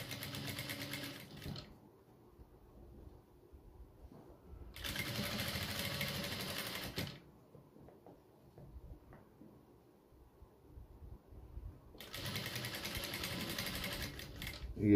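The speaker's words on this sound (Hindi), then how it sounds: "ये इस तरीके से सिलाई लगा लेंगे पूरी" A sewing machine stitches fabric for latkan tassel decorations, running in three loud, steady bursts of a few seconds each, separated by quieter pauses with faint handling noise.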